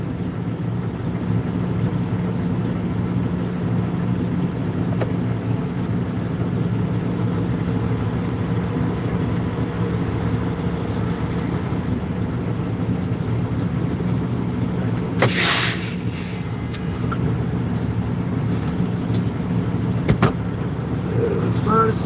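A truck engine runs while backing up to trailers, a steady low droning hum that holds evenly throughout, with a brief hiss and a faint click partway through.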